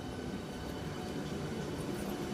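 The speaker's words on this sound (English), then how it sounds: "this is our train to Stratford International." A Southeastern HS1 high-speed train at Ebbsfleet station, heard as a steady, fairly faint rumble of rolling wheels and motors with no talking.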